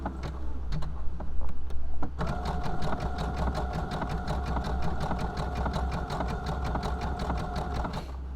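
A sewing machine runs steadily while stitching zigzags on fabric for a drawstring glasses case, a brief start-stop of stitching followed by a continuous rhythmic whirr with a fast, regular needle tick, close and clear.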